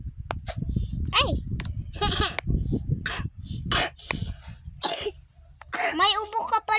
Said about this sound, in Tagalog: May ubo ka pala, classmate.